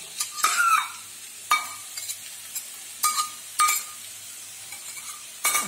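Mashed potato scraped and stirred with a spoon while frying with onion in a pan, with a faint sizzle under roughly eight distinct scraping strokes, close and moderately loud, and no talking.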